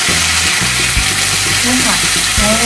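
Bacon slices sizzling on a pink B2S shabu and grill pot make a loud, steady hiss and crackle throughout, with a faint voice in the background.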